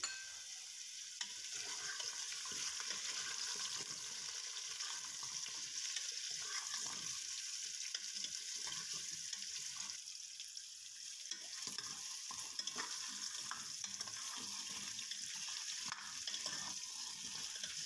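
Grated carrots for gajar halwa being stirred with a spoon in a cooking pot, a steady soft scraping and sizzle with watery bubbling that runs continuously throughout, no talking.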